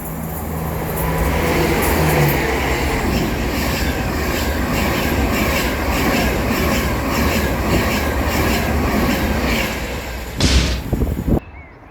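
A train passing through a railway station on the former North Staffordshire line at Congleton, a loud sustained rumble with clattering wheels, then a sharp slam-like burst near the end.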